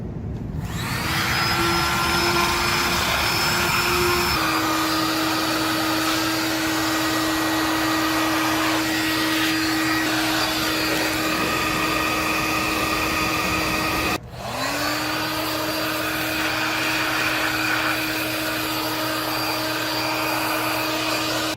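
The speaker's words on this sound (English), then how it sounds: "So we'll try the air blower next." An air blower with a small nozzle dusts out a desktop computer case, giving a loud, steady, close-up whine and rushing hiss that dips briefly partway through, then resumes.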